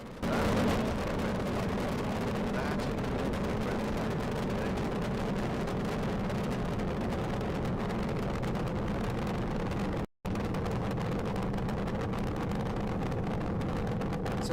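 SpaceX Starship rocket on its fifth integrated flight test, launching at sunrise with all engines lit, producing a loud, continuous, broadband roar that lasts throughout, broken only by one brief cut near the end.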